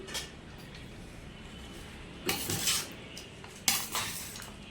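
Pulihora rice with lemon, carrot and a little coriander being tossed and mixed by hand in a large pot, giving soft scraping and two louder clinking, rustling bursts over a quiet background.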